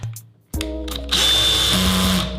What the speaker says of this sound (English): this makes a funny noise as you get near the end